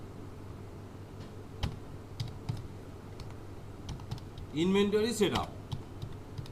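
Light, sparse keystrokes on a computer keyboard, a few separate clicks spread out over quiet room tone, with a short burst of speech partway through.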